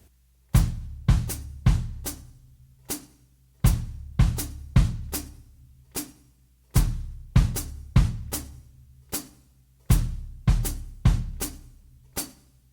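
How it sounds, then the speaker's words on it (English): A steady, repeating drum pattern of punchy low bass drum kicks with crisp hi-hat strikes, clean and close, looping evenly with no voices. "an ostinato pattern between your bass drum and your hi-hats with your feet"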